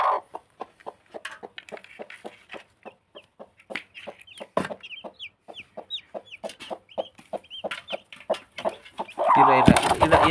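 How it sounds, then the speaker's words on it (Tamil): A yellow hen clucks steadily in a rapid, regular rhythm beside her eight newly hatched chicks, whose high peeping cheeps break in from close by, with a brief rustling burst at the end. "மஞ்சள் கலர் கோழி இப்போ தான் வந்து பொரிச்சிட்ருக்காரு."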